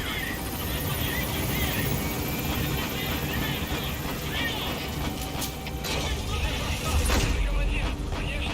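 Helicopter rotor and engine drone steadily in Metal Gear Solid 5 as the aircraft gains altitude, a dense continuous roar filling the whole stretch with a slight swell near the end.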